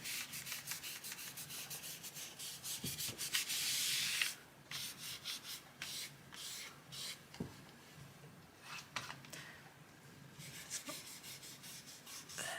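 Soft, steady rubbing of pastel being worked into paper, a close dry scratchy swishing that comes in strokes, louder for the first few seconds and then lighter and more intermittent.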